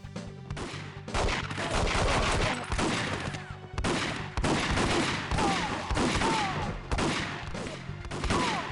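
Rapid gunfire and shotgun blasts from the N64 game 007: The World Is Not Enough, loud and continuous across the clip, with dense overlapping shots and brief pauses, some synthetic whistling tones mixed in.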